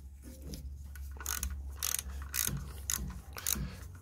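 Ratchet spanner undoing bolts on the power steering housing of a Triumph Stag, several quick ratcheting bursts with clicks and metallic rubs close by, fairly quiet.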